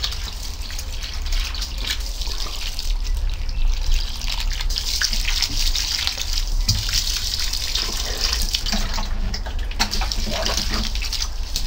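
Water pours steadily onto allotment plants, soaking the soil at their base and dousing a row of croissant-shaped plants, a continuous close gushing and trickling with no pauses.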